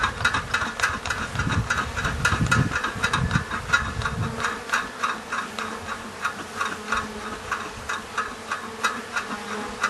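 Honey bees buzz inside an opened hive during an inspection, a dense close drone that swells and pulses in a steady rhythm, with no voices over it.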